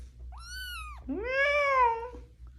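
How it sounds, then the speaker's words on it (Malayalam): A kitten abandoned by a roadside meows twice in quick succession, a short rising-falling cry followed by a longer, louder one, close to the microphone with no talk. "ഒരു പൂച്ചക്കുട്ടി"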